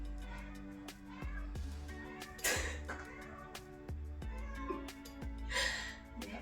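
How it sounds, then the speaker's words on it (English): A domestic cat meows several times indoors, faint and close, in short separate calls with quiet pauses between them. "My cat found her toy."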